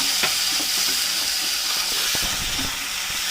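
Tomatoes drop into sautéed onions in a pan and fry with a steady close sizzle and hiss, broken by a few soft stirring clatters.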